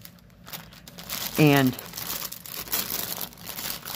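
A plastic bag holding a stamped embroidery craft kit crinkles and rustles in short bursts close to the microphone, with a brief spoken word partway through.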